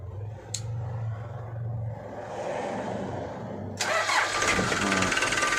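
A Toyota Dyna 130HT diesel truck engine, just fitted with a replacement injection pump plunger, cranks and then fires, catching into a loud, close rumbling idle.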